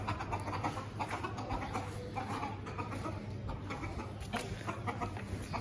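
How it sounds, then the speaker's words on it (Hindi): Several chickens cluck and murmur nearby over a constant background hum, with scattered short calls throughout. "एक मुर्गी के साथ ना बड़ा शोर करते हैं, इतना शोर करते हैं।"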